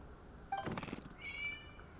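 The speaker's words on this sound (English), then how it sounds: "It was just a cat." A single short cat meow sounds faintly against a quiet electronic background in the video game Genshin Impact, followed by a soft high tonal chime.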